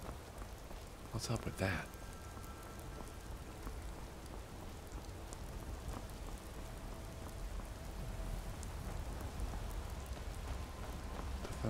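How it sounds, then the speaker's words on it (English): Steady rain from a thunderstorm in the video game Skyrim hisses evenly throughout, with a brief louder burst early on and someone speaking softly over it. "Thunderstorm begins to let up."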